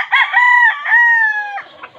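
A wild chicken (labuyo) crows in one drawn-out call of about a second and a half, loud and close, ending in a few short clucks.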